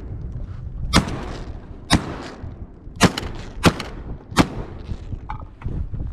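Shotgun blasts ring out at sea ducks during a duck hunt at Cedar Island: five sharp, loud reports spaced about a second apart, each with a short echoing tail, and faint wind and water noise in between.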